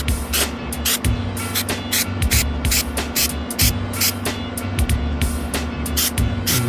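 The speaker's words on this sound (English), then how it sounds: "I'm just spraying a little quick coat" Repeated short hissing bursts of an aerosol can spraying rubber sealant, sprayed in quick irregular squirts over a low steady engine hum.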